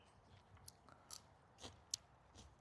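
Close crunching and chewing of fresh sugar snap peas in a spring vegetable garden, a handful of crisp bites scattered irregularly and faint, with no talking.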